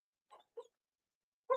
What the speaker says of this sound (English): my dog is talking in her sleep